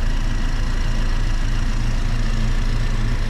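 A 2020 BMW Z4 sDrive 30i roadster with a twin-turbo engine idling, a steady, smooth low hum with an even rumble and no revving, close and continuous throughout.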